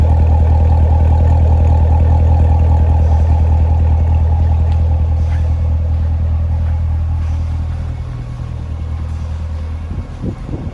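A 2019 Chevrolet Corvette Stingray 1LT coupe with Z51 package and 7-speed manual idles with a deep, loud, steady exhaust chug heard from behind the car, the rumble easing slightly toward the end.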